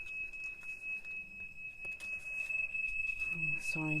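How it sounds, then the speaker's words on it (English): A steady high-pitched electronic tone drones throughout as a home smoke alarm beeps continuously, set off by cooking, with faint background noise and a brief voice near the end. "Smoke alarm's gone off."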